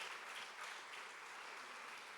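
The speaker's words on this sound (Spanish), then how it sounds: "¿Podemos dar un aplauso fuerte a ese Dios?" A congregation in a church applauds, a faint, distant, continuous wash of clapping with no distinct individual claps.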